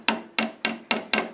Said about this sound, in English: This is like a 8-ounce hammer. It's 10 ounce it says.